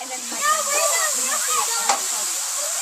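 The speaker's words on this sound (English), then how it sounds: "we are ready to add our dry white wine" Dry white wine poured into a paella pan of browning rice, a soft splashing sizzle with a steady hiss, while a person talks.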